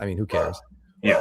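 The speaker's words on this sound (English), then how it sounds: "Sorry for my dog." A dog barks and yips close by in short, sharp bursts, mixed in with a person talking.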